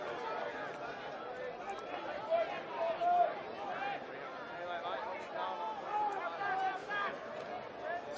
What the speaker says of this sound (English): You can hear the crowd urging on their players.